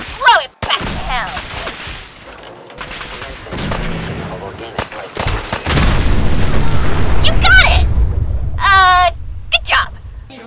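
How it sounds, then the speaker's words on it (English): Brahmin beacon grenades exploding in the video game Fallout 4, a series of loud booms and bursts like gunfire, mixed with in-game voices and effects and a longer rumbling blast in the middle. "Plus exploding Brahmin beacon grenades."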